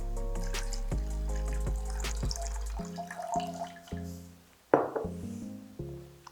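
Water runs from a tap into a cooking pan while preparing a vegan stir-fry mushroom teriyaki, a steady close filling sound over a low hum, with a few drips and clinks near the end.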